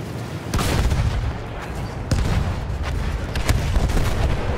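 Heavy booms and gunfire crack through a World War I battlefield in Battlefield 1, with a dense rumbling din of artillery and shots, loud and close, several sharp blasts standing out.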